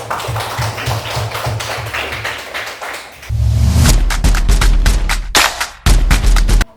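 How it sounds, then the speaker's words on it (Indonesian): Classroom clapping as students applaud the winning group of a quiz game during a teaching session, with sharp, irregular handclaps that grow louder and denser partway through, joined by a low hum. "Mari kita tepuk tangan untuk kelompok 1."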